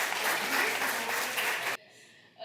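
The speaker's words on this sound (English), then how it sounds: "round of applause, ladies and gentlemen" Wedding reception guests at The Addison of Boca Raton give a loud, full round of applause that cuts off abruptly, leaving a quiet room with faint background sound.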